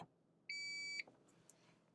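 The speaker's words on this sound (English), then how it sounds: "We're listening for a short and then long beep." A 2023 Lexus ES sounds a single sustained electronic confirmation beep lasting about half a second, clear and close in a quiet cabin, followed by faint clicks.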